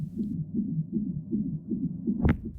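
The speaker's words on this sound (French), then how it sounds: "les battements de cœur d'un enfant." A child's heartbeat, heard as a steady, muffled low-frequency pulse repeating about every third of a second, followed near the end by a brief brighter thump.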